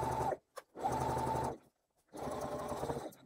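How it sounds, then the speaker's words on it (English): Domestic sewing machine back stitching a fabric seam at a fold on a crossbody bag, three loud close bursts of rapid stitching separated by short pauses. "I'm back stitching well where that fold is at the bottom"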